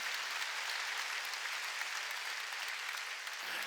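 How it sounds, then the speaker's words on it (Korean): Steady, dense applause from a church congregation during a Sunday service, continuous clapping at even loudness throughout with no voices standing out. "박수 치려면 치고 말면 말"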